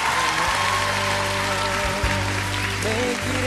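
Audience applause at a televised Swedish singing competition, steady dense clapping over lingering music tones, fairly loud and continuous throughout.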